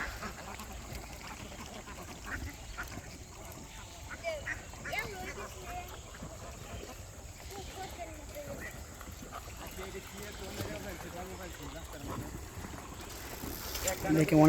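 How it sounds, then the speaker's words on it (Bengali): A large flock of around two hundred domestic ducks quacks continuously outdoors, scattered calls overlapping while people talk over them now and then. "এখানে এক ঝাঁক হাঁস অনেক সুন্দর"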